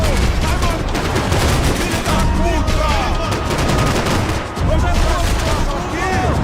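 Dense, continuous gunfire in Max Payne 3, loud rapid shots and bursts layered over each other with no break across the clip.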